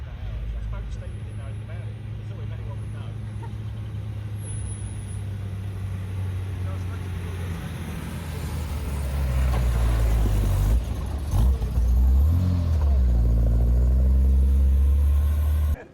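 A 1954 3-litre Aston Martin Lagonda engine rumbles steadily, then grows louder as it passes close by with a deep roar and shifting pitch, fading at the end.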